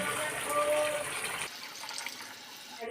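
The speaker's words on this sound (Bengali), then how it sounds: "দেখো দিয়ে দেবো জল" Water poured into a pan of spiced masala frying in oil for a yogurt catla fish curry, a steady close gush with sizzle that cuts off abruptly midway, leaving a quieter hiss.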